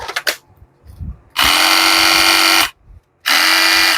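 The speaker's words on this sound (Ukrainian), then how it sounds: "Така сабельна пила щіткова." A DeWalt brushed cordless reciprocating saw runs without cutting in two bursts, first about a second and a half, then another starting after a short pause, each a loud steady motor whine. A few clicks come before it.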